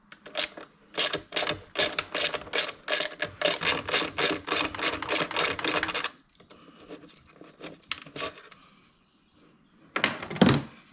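A hand ratchet loosens a stud on a car engine near the valve cover, giving a long run of rapid, evenly spaced clicks up close, then a pause with faint handling noises and a short final burst of scraping metal.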